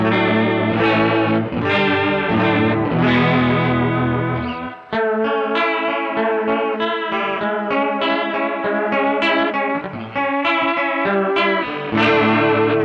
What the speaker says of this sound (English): as you can hear, it's a vibrato effect